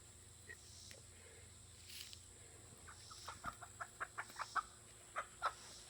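Backyard hens cluck and squabble while fighting, first soft scattered clucks and then a rapid series of sharp, close clucks and squawks in uneven bursts.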